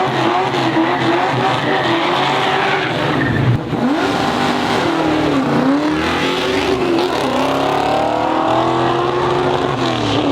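A race car at a drag racing event roars loudly past with screeching, skidding tires, engine pitch rising and falling over a sustained, close, dense blast of noise.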